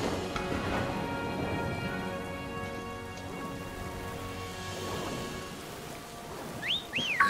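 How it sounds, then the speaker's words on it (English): Steady rain falls close by as a dense, even patter, with brief low rumbles that suggest thunder; near the end a few high chirping or whistling sounds cut in. "It's raining here."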